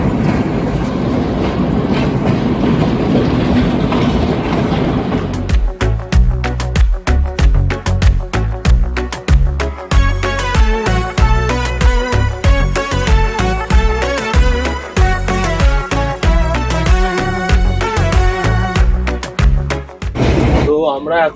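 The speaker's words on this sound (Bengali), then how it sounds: "আমাদের ট্রেন কিন্তু কলম্বো স্টেশন থেকে ছেড়ে দিয়ে যাবে" A train travelling from Colombo toward Mirissa in Sri Lanka rolls along with loud, rhythmic clickety-clack of wheels over rail joints, steady and close, beginning after a stretch of rushing wind and carriage rumble.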